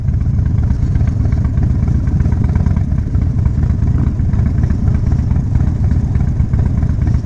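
A stream of Harley-Davidson motorcycles rolls past on a charity ride, their engines making a loud, steady, close rumble that continues for the whole stretch without a break.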